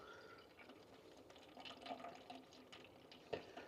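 Worm leachate, a liquid fertiliser from a worm bin, trickles from a small tap at an allotment, a soft continuous pouring with faint drips and a couple of brief splashes, heard alone without talk.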